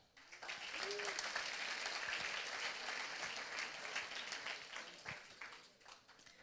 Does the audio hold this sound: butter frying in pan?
no